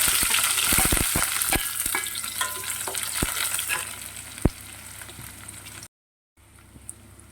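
Shallots and chopped coconut pieces for beef curry sizzle loudly in hot oil, a steady bright frying hiss broken by sharp clicks of stirring, then a brief gap before a quieter sizzle resumes.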